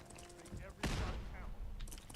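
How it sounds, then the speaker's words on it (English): A grenade blast in Fallout 4 hits as a sudden loud burst, followed by a rumbling, crackling decay under ongoing game noise, with faint gunfire before and after. "That was a terrible grenade."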